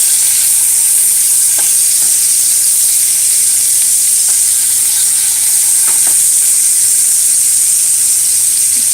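Uncured beef franks fry in hot oil in a pot, giving a loud, continuous crackling sizzle with a few faint clicks of a utensil turning them.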